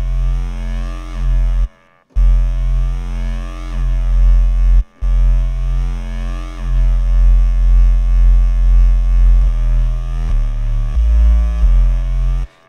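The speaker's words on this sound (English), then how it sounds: "got a cool sort of stereo echo" Distorted drum and bass synth bass in Reason, processed with a stereo echo effect: sustained, buzzy, harmonically rich notes that drop out briefly twice, then shift through several pitches near the end, loud and with no talk over them.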